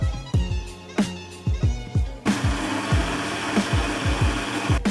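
Electric mixer whirring through egg yolk, matcha powder and condensed milk, with repeated thumping knocks at first, then a steady buzzing drone carrying on alone.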